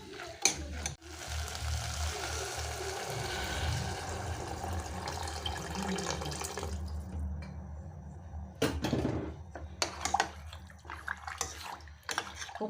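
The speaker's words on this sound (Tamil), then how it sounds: "இப்போ தண்ணி எவ்வளோ தேவையோ அதுக்கேற்ற மாதிரி தண்ணி ஊற்றிக்கலாம்" Water is poured into a chickpea curry in a pot, a continuous splashing stream for several seconds that stops and is followed by scattered clinks and handling noises.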